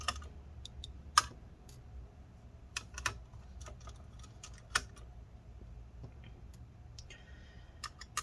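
Small screws being worked loose on an EVGA GeForce GTX 1060 graphics card during disassembly, heard as sparse, faint metallic ticks and clicks scattered over a quiet hum.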